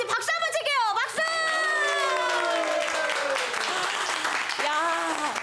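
A group of people clapping and cheering together after finishing a year-end volunteer delivery, with bright shouted whoops and excited voices rising over a steady bed of hand claps, fairly close and loud.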